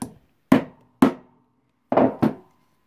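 A hammer taps an insert nut into a piece of wood with five sharp, close knocks. The first comes alone, the next two are evenly spaced, then there is a pause before a quick final pair, with silence between the strikes.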